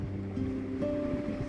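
An electric mixer runs steadily at medium speed blending a bread pudding mixture, a close, continuous motor hum with rising whining tones and no talk.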